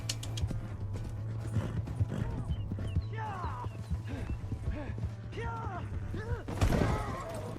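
Rhythmic hoof clip-clop from a horse in Red Dead Redemption 2, with creaks and snorting whinny-like calls over a constant low drone, and a louder burst near the end.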